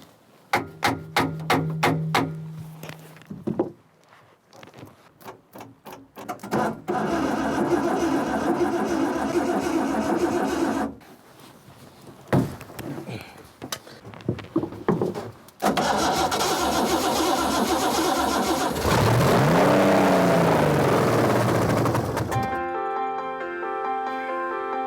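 An old speedboat petrol engine cranks and sputters in short bursts, then catches and runs loudly, with its pitch rising and settling as it revs close by.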